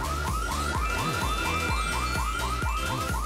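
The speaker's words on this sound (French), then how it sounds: "Oh non, pas l'alarme incendie!" A cartoon fire alarm blares continuously in a rapid repeating electronic whoop-like pattern, loud and steady throughout with no talk over it.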